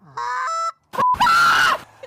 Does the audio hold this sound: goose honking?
yes